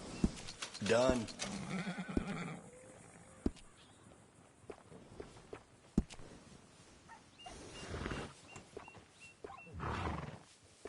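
A horse whinnies loudly in Red Dead Redemption 2, a close neigh at the start followed by sparse hoof thuds and softer ambient sounds.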